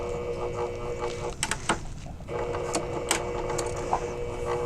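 A sewing machine runs a regular straight stitch through thin muslin, sewing down a sleeve for hanging a quilt: a steady close whir that breaks off briefly near the middle, then resumes, with no talking.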